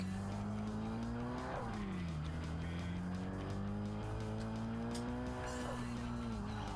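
A car in a Japanese touge racing game revs as the handbrake is pulled, tires squealing through a skid while the engine note drops and climbs again, loud and continuous.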